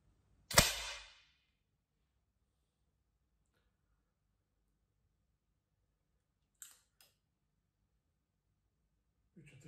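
A Morini 162 or Hämmerli 480 air pistol fires one loud, sharp shot that decays quickly, followed by faint clicks of handling in a quiet setting.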